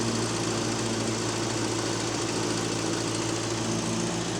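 A 1967 Triumph Herald 1200 engine idles steadily after a cold start with a low, even rumble and faint mechanical vibration, running continuously with no voices.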